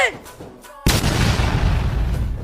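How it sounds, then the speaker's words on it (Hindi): A firecracker bomb set off during Diwali bursts in one sharp, loud blast. The bang is followed by a long crackling, rumbling decay, with faint voices before it. "तो फिर ये पकड़ो, मैं फोड़ूंगी बम।"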